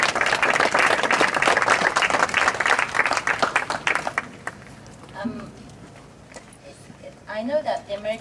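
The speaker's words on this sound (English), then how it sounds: "they all deserve our thanks and a round of applause" Audience at a film screening evening in Cyprus breaks into loud, dense applause that fades out after about four seconds, followed by someone speaking at a quieter level.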